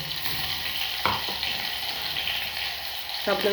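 Green chillies frying in hot oil for a spicy sabudana kheer, a steady broadband sizzle throughout with a couple of sharp clinks from stirring.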